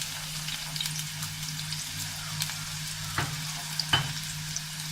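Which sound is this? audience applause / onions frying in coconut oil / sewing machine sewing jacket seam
onions frying in coconut oil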